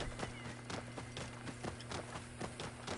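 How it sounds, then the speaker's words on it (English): Rapid, rhythmic hoofbeats of a camel in Assassin's Creed Origins pound steadily in a fast galloping pattern, close and even, with no other sounds. "this camel is just weird to ride. His gallop is just like, it's strange."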